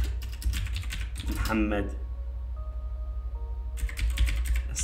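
Rapid clicking of typing on a computer keyboard while laying out text in Word, bursts of keystrokes at the start and end with someone talking between them.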